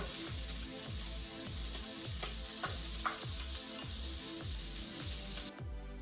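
Salmon pan-searing in hot oil gives a loud, continuous sizzle with a rhythmic scraping pulse, as if the pan is being stirred or shaken, before the sizzle drops off abruptly near the end.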